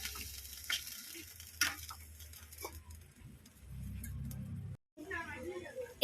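Maggi noodles sizzling and frying in a pan right after a little water is poured in, a steady hiss with a few sharp ticks and stirring clatters, loudest toward the end.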